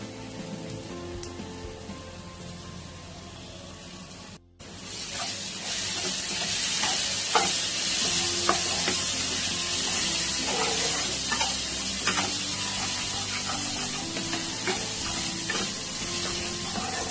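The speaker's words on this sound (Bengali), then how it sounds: "খুব ভালো করে মশলাটাকে কষাতে হবে।" Spice masala of cumin, coriander and red chili powder fries in a pan. After a brief pause, a loud, dense sizzle takes over, with scattered crackles and stirring scrapes throughout.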